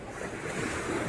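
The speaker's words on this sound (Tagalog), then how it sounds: "Kita niyo yung alon doon. Yun, ang lakas." Steady roar of ocean surf on the North Luzon coast, Philippines, with wind buffeting the microphone, a continuous wash of breaking waves with no voices.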